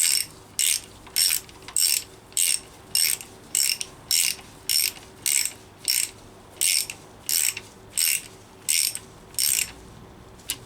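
Ratchet tightening bolts on a Rover P6 V8 engine during a rebuild: a dozen crisp, close ratcheting bursts in a steady back-and-forth rhythm, separated by short pauses, with no talk.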